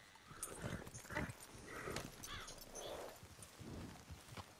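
A horse in the video game Red Dead Redemption 2 clip-clops along at a moderate distance, its hooves beating an uneven rhythm with a few faint snorts or whinnies over a quiet game background.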